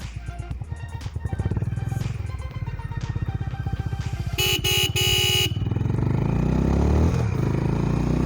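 A Honda CB350 motorcycle engine thrums steadily at speed on the road, with a brief honking horn partway through and wind noise as the bike keeps accelerating.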